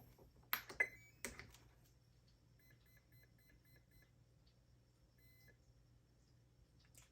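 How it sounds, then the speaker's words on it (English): Electronic speed controller in a six-cell-battery FMS Viper RC jet giving a startup tone followed by a count of six quiet evenly spaced beeps and a final beep, faint over a low hum. "you heard the cell count, 1, 2, 3, 4, 5, 6, and then the beep"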